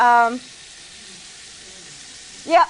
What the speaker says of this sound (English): go back to the stove. Saute it together.